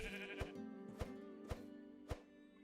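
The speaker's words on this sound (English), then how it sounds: "Slicing this sheep." A sheep in the Minecraft game, played with the Minecolonies mod, bleats in a drawn-out tone while being slashed, with four sharp hits landing at even intervals over the bleating.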